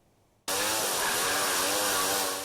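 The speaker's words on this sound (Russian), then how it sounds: "Шум бензопил и стук молотков не прекращаются на стройке с сентября." A chainsaw at a mosque construction site starts abruptly after a short quiet moment and then runs loud and steady, a harsh buzzing roar close by, with no hammer blows standing out.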